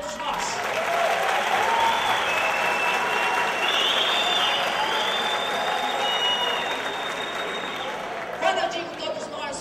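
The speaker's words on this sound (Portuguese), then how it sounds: "uma salva de palmas a todos nós" A large gathering in celebration of Administrator's Day claps steadily and loudly for nearly ten seconds, a dense wash of many hands with a few sharper claps near the end.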